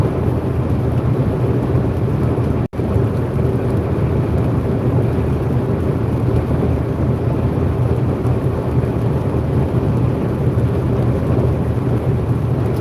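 Steady rain drums on a moving truck on a Missouri highway with constant broadband noise throughout, loud and close, with a brief dropout partway through.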